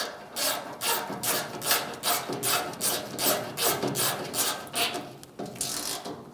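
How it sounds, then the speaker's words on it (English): A ratchet snugs down a bolt on a new tailgate cable of a 1988–1999 GMC K1500 pickup, making a quick, evenly repeated series of raspy back-and-forth strokes, close and clear with no talking. "Snug it down."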